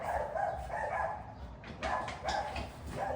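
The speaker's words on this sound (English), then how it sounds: "Sorry if you can still hear the dogs." Dogs bark repeatedly at a distance, a steady muffled run of yips and barks heard through a room, continuous and fairly faint, with no talking.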